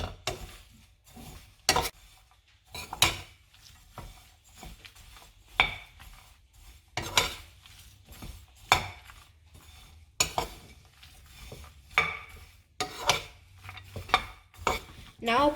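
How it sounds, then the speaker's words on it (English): A spoon mixes snack ball mixture of seeds in a pan over a low flame, scraping and knocking against the metal in repeated sharp strokes at an uneven rhythm, near and clear with quiet gaps between. "Keep mixing well and leave the flame low."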